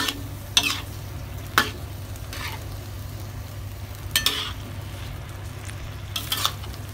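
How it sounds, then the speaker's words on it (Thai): Shrimp and squid stir-fry with stink beans in a pan, a low steady sizzle broken by several sharp scraping strokes of a spatula at irregular intervals, close up, no speech. "ผัดจนกุ้งกับหมึกสุกนะฮะ"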